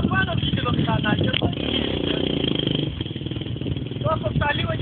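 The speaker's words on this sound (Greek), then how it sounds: "Εδώ απάνω πήγε το μηχανάκι." A motorbike engine drones and strains as the bike climbs uphill, loud and steady, with someone talking over it.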